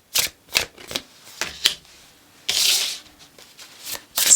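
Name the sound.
shuffling tarot cards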